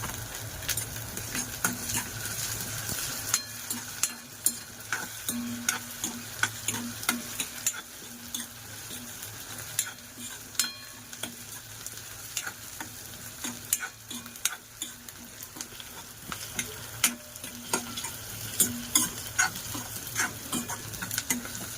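Masala paste for a dried bombil (Bombay duck) curry roasting and being stirred in a pan, with steady sizzling and frequent scraping clicks of a spoon running throughout at close range.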